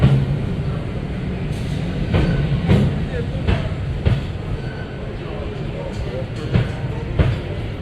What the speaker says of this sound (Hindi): तो फिर चलिए अभी हमारा ट्रेन आने वाला है